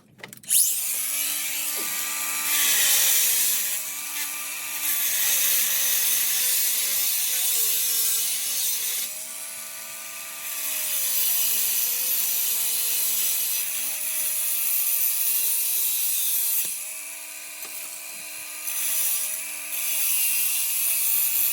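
Rebar being cut into short pieces with a power cutting tool for a wall build, giving a steady, close, whining grind whose pitch dips and recovers repeatedly as the blade bites, running continuously for about twenty seconds with no talk.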